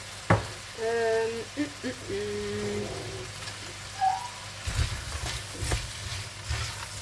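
Meat sizzles in a pan seasoned with garlic salt, a soft steady crackle with a few utensil taps and scrapes, while a low hum runs underneath.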